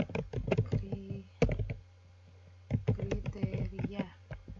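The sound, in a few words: typing on a computer keyboard in Excel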